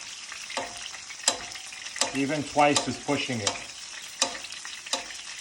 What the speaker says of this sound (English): if you fry too many times in the same oil